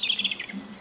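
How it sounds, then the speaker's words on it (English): Brief high chirps and tweets from birds outdoors, a quick run of bright calls followed by a higher whistled note, moderately faint and with no one talking. "listen to the birds"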